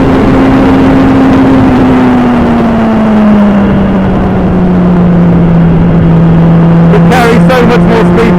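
A 390 kg Hyper Racer X1 race car on track in heavy rain, its engine droning loud and close with a steady, slowly falling pitch, wet road hiss beneath, and a brief crackle near the end.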